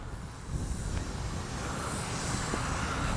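Hangar 9 Valiant 20cc gas RC plane in flight, a steady continuous engine drone with broadband wind-like noise, moderately distant and holding an even level throughout.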